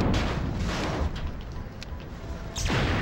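An ion detonator goes off in Destroy All Humans!, giving a loud, close, roaring explosion that decays over about two seconds before a second sharp blast hits near the end.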